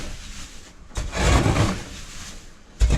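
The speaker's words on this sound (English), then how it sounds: "I'm gonna scoop it all over to this door first." Bedding being scooped inside a chicken brooder for Freedom Ranger chicks, a couple of scraping, shuffling rushes of loose material, one long sweep and a short final scrape, close and fairly loud.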